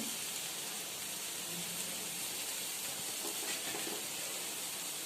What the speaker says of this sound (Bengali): এবারে এটাকে আমি একটু ভাজা ভাজা হতে দিচ্ছি